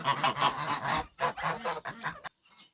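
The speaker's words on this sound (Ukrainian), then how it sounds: "Старі гуски трішки їх ганяють, але хай привикають." Loud, close geese honking in a dense, overlapping burst, a second volley of honks, then quiet.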